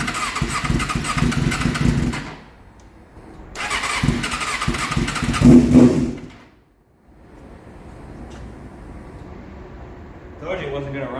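A vehicle engine with no tune, fitted with a catch can and a pair valve delete, starts up close by. Two loud bursts of cranking and revving are followed by a short lull, then a lower, rough idle settles in.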